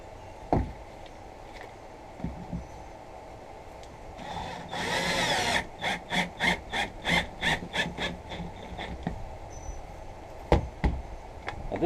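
A small Harbor Freight drill driver whirs in a short burst, then pulses in a quick series of about eight even trigger bursts, close by amid light workshop knocks during a boat project.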